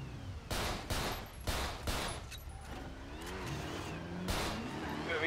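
Bursts of gunfire in a police roleplay video game crack out in several loud, rapid volleys over engine rumble, then a pause before another burst near the end.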